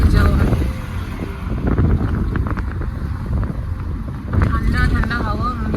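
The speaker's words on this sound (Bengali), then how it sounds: "কালিপিলি ট্যাক্সি এখানে ফেমাস, ওটাতেই আমরা যাচ্ছি" Ride inside a black-and-yellow taxi through Mumbai before dawn, with steady road rumble, wind rush through open windows and passing traffic throughout, and people talking over it.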